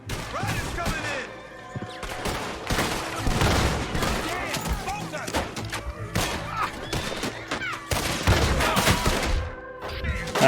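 Gunfire in the video game Red Dead Redemption 2, with rapid pistol and rifle shots cracking in dense bursts alongside thuds and a rough scuffle, loud throughout with voices in between.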